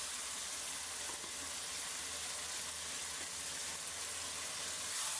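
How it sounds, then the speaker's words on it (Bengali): Meat masala frying in a pan, giving a steady, dense sizzle that runs without a break and stays even in loudness throughout. "তো আমি এখন এই মাংসের মশলাটা দিয়ে দেবো"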